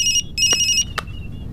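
A telephone ringtone plays in a Hindi-dubbed film scene: a loud, close electronic warbling tone in two bursts, followed by a brief beep and a faint lingering tone.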